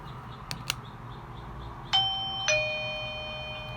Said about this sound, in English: You can hear the ring.